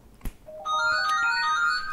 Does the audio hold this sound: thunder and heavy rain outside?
no